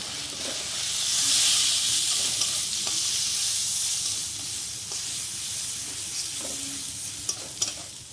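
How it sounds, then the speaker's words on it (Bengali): Spice paste with coriander and cumin powder fries and is stirred in a pan for a prawn and potato dum curry, giving a loud, steady hiss and sizzle that swells and settles, with faint utensil scrapes. "সব রকম দেওয়া হয়ে গেল মশলাটা, এবার ভালো করে কষিয়ে নেবো"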